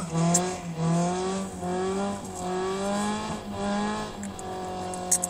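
A race car revs at a racing event in Pishtigovo, its engine pitch swinging up and down in repeated surges with tire squeal, loud and close, with no talk over it.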